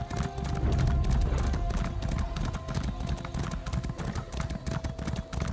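A horse ridden at pace in Elder Scrolls Online: Dragonhold, its hooves clip-clopping in a steady, loud rhythm against ambient game sounds, with a voice speaking lightly alongside.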